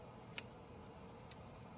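Scissors trim the strands of a yarn crochet tassel: two faint, crisp snips about a second apart over quiet room noise, with no talking.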